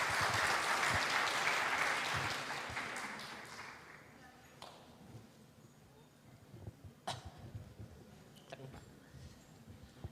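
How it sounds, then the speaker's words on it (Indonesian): An audience at a talk on constitutional law in Bandung applauds to welcome the speaker, loud and full at first, then fading away after about three seconds, followed by scattered taps and coughs in a quiet hall. "Mohon tepuk tangan untuk pemateri kita pada kali ini."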